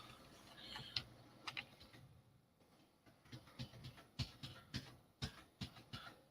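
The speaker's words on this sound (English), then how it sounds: "I'm just going to use my keyboard. Apology for the clicks while I scroll down on this story." Computer keyboard keys click one after another, a quiet, irregular series of sharp taps, sparse at first and then quicker and more rhythmic, close to the microphone with no voice.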